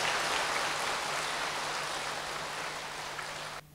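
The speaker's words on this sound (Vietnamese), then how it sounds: "rồi vỗ tay thật to lên" Large audience at a Buddhist teacher's talk clapping loudly, a dense, even wash of applause sustained for about three and a half seconds before cutting off abruptly.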